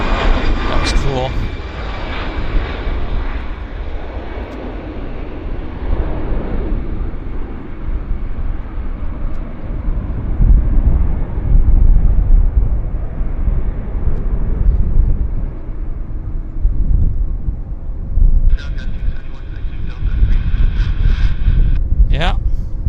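A jet airliner's engines roar at Vancouver Airport as it comes down for a heavy landing, a loud sustained rumble with wind buffeting the microphone and people talking nearby.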